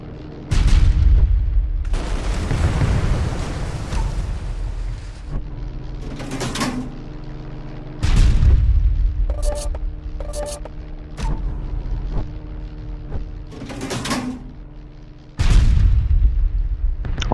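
Naval gunfire from warships, including HMS Repulse, strikes in the video game Battle of Warships. Loud, deep booms land one after another at irregular gaps, with rumbling impacts and metallic clangs in between.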